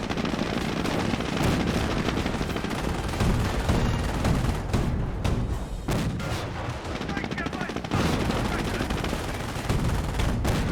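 Officer-called artillery barrage in Company of Heroes, shells landing around a Marder tank destroyer: a dense, continuous roll of booms and gunfire crackle, loud and sustained throughout with no clear gaps.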